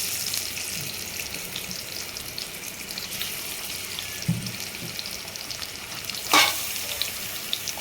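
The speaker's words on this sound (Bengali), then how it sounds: "টমেটোটা একটু ভাজা হয়ে এলে তার মধ্যে ইলিশ মাছগুলো দিয়ে" Hilsa fish frying with tomato in a pan makes a continuous close sizzle and hiss, with a couple of brief knocks and a sharper splash of spitting oil near the end, and no voices.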